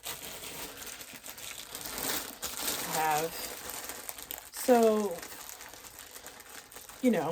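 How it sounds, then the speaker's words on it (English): Plastic packaging rustles and crinkles through the stretch, fairly close and busy, with bursts of talking on top of the crackle. "Sorry in advance for all of the rustling and the plastic that is about to happen."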